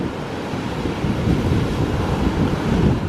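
Strong wind buffets the microphone at Bonny Doon Beach while surf rolls and washes in the background, a loud continuous roar with gusty swells and no voices.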